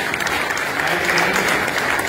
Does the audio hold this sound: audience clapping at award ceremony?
yes